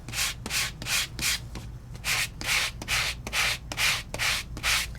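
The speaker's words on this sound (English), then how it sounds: "It's not sanding to white, it's sanding to a lighter shade of the paper" Sandpaper rubbed over card stock while card making, a steady run of close, loud, rhythmic scraping strokes, about a dozen in five seconds, with brief pauses between them.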